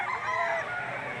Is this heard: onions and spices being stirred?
no